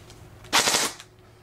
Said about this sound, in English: 3-round burst.